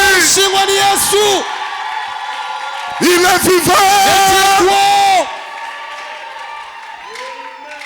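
A church congregation at a French-language worship service cheers and applauds for Jesus, loud bursts of clapping and shouts set against a singing or preaching voice that continues over and between them.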